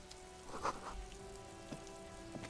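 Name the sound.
rain in the video game Disco Elysium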